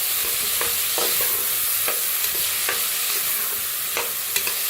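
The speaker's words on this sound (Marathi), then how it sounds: "मसूर बी त्याला मी भाजून घेऊया" Masoor lentils dry-roasting in a pan, giving a steady dry rustling hiss with repeated sharp scrapes and clicks from stirring, close and fairly loud, with no talking.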